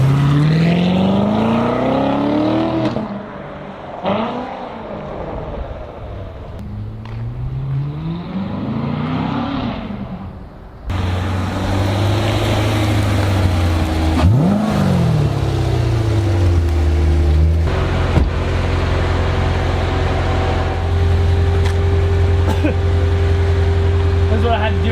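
A car engine revs and climbs through the gears outside, rising and falling in pitch several times before settling into a steady loud drone, with people talking over it.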